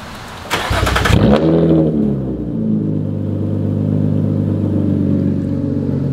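A BMW 335i with a straight-piped exhaust barks through a loud, raspy rev that then settles into a deep, rumbling idle, close and unaccompanied by talk.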